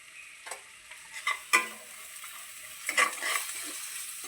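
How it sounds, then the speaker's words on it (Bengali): Chicken sautéing with chilli powder, turmeric and salt in a pan, giving a soft steady sizzle broken by a few sharp scraping and stirring clicks, close and fairly quiet with no voices. "এবারে একটুখানি কষে নিয়ে"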